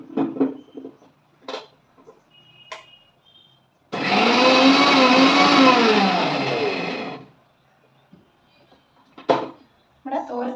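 An electric grinder crushes cumin and turmeric for a drumstick leaf thoran, a loud continuous whirring burst of about three seconds, set between soft kitchen clatter and brief talk.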